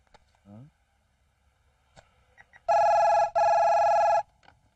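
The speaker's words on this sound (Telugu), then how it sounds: "అయ్యా ఫోన్ అయ్యా" A telephone ringing in a comedy film scene, two loud electronic trills back to back, close and clear, preceded by a brief voice and small sounds.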